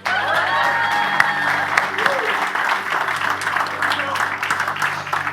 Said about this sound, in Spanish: Vamos a dar un aplauso al Perú, por favor.